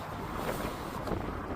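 Strong wind gusts across a coastal hiking trail on Dixon Hill near Placentia, producing a constant roaring buffet against the microphone with a faint wash of sea behind it.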